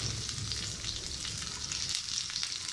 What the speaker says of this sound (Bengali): গোটা জিরেটা ভালো করে ভাজা হয়ে গেলে তার মধ্যে কাঁচা পেঁয়াজ দিয়ে ভালো করে কাঁচা পেঁয়াজটা ভাজতে হবে